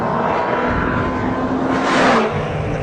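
A 2013 BMW M6 accelerates hard in a launch-control acceleration test, a loud, sustained engine roar that swells toward the two-second mark, then drops slightly as it shifts.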